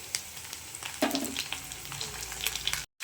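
Garlic, onion and chili fry in hot oil in a wok, giving a steady close sizzle with a brief burst as food goes in, then a short silent gap near the end.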